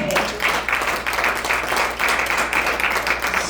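A church congregation claps and applauds in a steady, dense wash for a few seconds, loud and continuous, with no talking over it.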